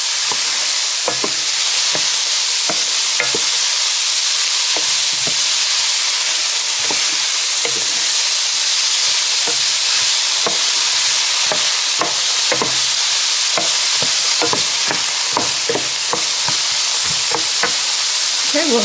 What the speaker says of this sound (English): we'll let that saute for a few minutes